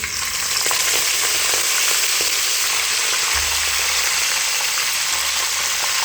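Cloves, star anise, marathi moggu and bay leaf fry in hot oil for bagara rice, a steady close sizzle with a brief louder burst of crackle partway through.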